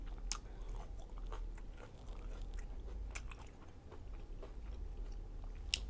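Close, quiet biting and chewing of chicken fajitas with sauce, soft crunchy clicks and wet mastication sounds repeating irregularly against a low, steady background.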